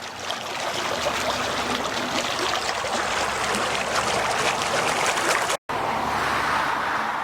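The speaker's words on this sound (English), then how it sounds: "That is quite the bubbling spring there, boiling spring." Natural spring water at Boiling Springs, Pennsylvania, bubbling and trickling steadily nearby, a continuous broadband wash of water sound with a brief dropout near the end.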